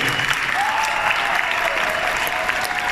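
A crowd at Bronycon 2019 applauds its panel guests, a continuous even wash of clapping throughout, with a faint voice threading over it.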